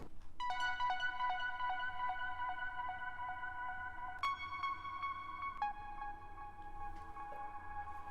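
A bright, bell-like synth melody enters in the second verse of an 80s pop song, with clear sustained notes over a quiet, low backing, fairly soft throughout.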